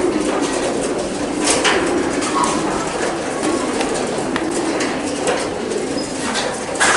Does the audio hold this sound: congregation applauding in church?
no